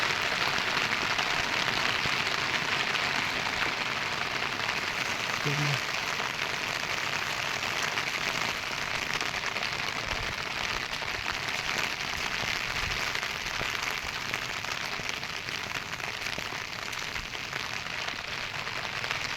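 Steady, dense hiss of rain falling outdoors on rice paddy fields during sowing, constant throughout with no pauses, sounding fairly close and even.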